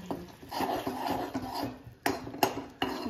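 A spoon stirs melting jaggery in a pan over medium heat, giving steady close-up scraping and rubbing with a few sharper knocks against the pan near the end.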